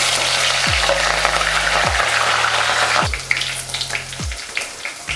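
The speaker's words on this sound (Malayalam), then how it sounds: "കടുക് പൊട്ടി വരുമ്പോൾ നമുക്ക് പച്ചമുളക് ചോപ്പ് ചെയ്ത് വെച്ച് നമുക്ക് ഇതിലേക്ക് ഇടാം." Mustard seeds splutter in hot oil, sizzling and crackling steadily with sharp pops scattered through it, while a few low descending tones sweep past in the background.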